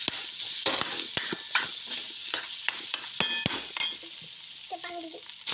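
Salted fish fries in a pan in a home kitchen, with a soft steady sizzle broken by repeated sharp scrapes and clinks of a utensil stirring against the metal.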